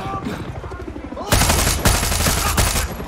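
Rapid automatic gunfire from a weapon in the video game Far Cry 6 breaks out after a quieter stretch, loud, close and continuous with a few heavier shots.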